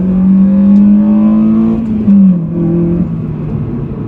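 A car accelerating hard at night, its engine rising in pitch through a loud, close rev before a brief gear change and a second surge, with no talking.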